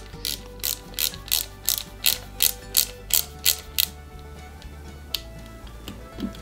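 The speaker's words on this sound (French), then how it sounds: "on met donc à l'arrière 2 vis IP cette fois-ci et on visse le tout" Small screws are driven into the rear of a Ghostbusters Ecto-1 model kit, a sharp ratcheting screwdriver clicking in an even run of about a dozen close strokes, then a few slower clicks.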